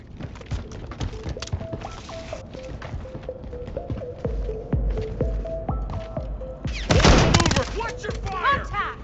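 Gunfire in Call of Duty Warzone, rapid bursts of automatic shots and scattered single cracks close by, with a heavy loud volley toward the end and game voice callouts mixed in.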